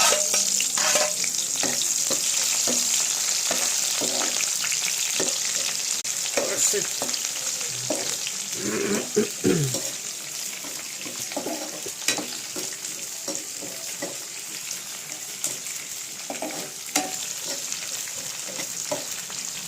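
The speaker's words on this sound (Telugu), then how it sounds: "ఆయిల్ మరిగాక తలపింజలు వేసేద్దాం" Dried red chillies and tempering spices sizzle in hot oil for a dosakaya dal, a constant bright hiss broken by occasional stirring scrapes and clinks from the pan, close by with no talking.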